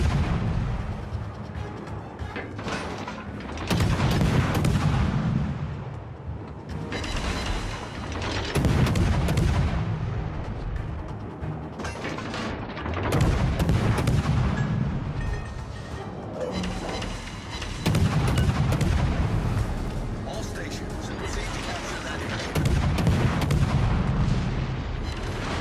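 Naval gunfire from warships in World of Warships Legends: heavy booming salvos roughly every four to five seconds, each one a loud, deep blast with rumbling tails between them.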